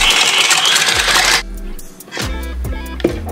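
A KitchenAid stand mixer whisks milk, egg and sugar with a loud, steady whirring hum for over a second, then stops, and a few softer clinks and mechanical knocks follow.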